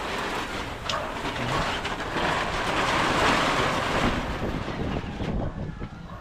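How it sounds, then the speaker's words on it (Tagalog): Strong wind roars steadily against the microphone, a broad rushing noise that swells slightly and stays loud throughout. "Lakas ng hangin ah."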